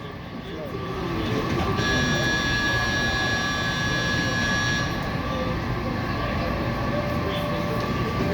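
A Washington Metro Red Line train pulls out of Dupont Circle station with a rising, steady roar and a high electric motor whine for several seconds, while people talk nearby.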